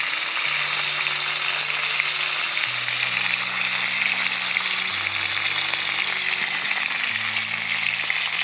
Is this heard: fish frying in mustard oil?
yes